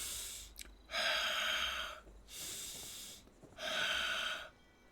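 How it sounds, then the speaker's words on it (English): Heavy, loud breathing from a single person close to the mic, three long noisy inhale-exhale bursts spaced about a second apart, with a short sharp gasp just before the first. "now the heavy breathing"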